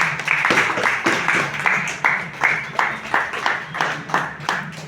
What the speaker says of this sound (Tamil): நீங்கள் உங்களை பாராட்டி கைத்தட்டி ஒரு முறை வரவேற்றுக் கொள்ளுங்கள்